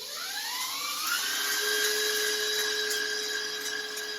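Electric mixer whipping batter in a bowl, a high whirring whine that rises in pitch as it spins up, then holds steady and continuous.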